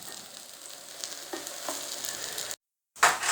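Hash browns made from leftover potato fry in a pan with a soft, steady sizzle and a few faint clinks. The sound cuts out briefly before a louder burst of sizzling.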